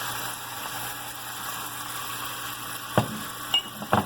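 Onions sizzle in a pan for Sicilian-style shrimp, a soft steady frying hiss under a constant mechanical hum. Near the end come a few sharp utensil clatters.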